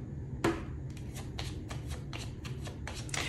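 Tarot cards being shuffled by hand at close range, with a sharp riffle at the start followed by a run of regular soft flutters and slaps, no talking.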